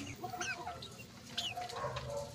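Chickens cluck in a backyard pen among young birds, producing soft, overlapping clucks and murmurs at low volume with a faint outdoor background.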